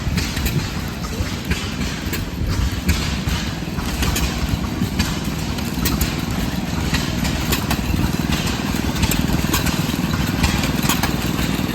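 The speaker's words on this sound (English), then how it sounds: "I have a Lawson engine" Antique Lawson engine running at an engine show, a steady loud mechanical chugging and rumble that holds without a break through the whole stretch, with no talk over it.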